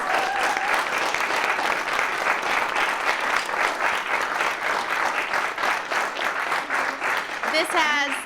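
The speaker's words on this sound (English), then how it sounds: "Let's give them another round of applause." A public library audience applauds after an afternoon concert: sustained, even clapping fills the room for several seconds, and a voice starts speaking just at the close.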